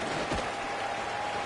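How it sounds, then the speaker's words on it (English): Football stadium crowd at a UConn versus Old Dominion game, a broad steady roar of buzzing and cheering filling the space, with a brief rising shout near the start and no break in the noise. "this crowd is buzzing after that last score"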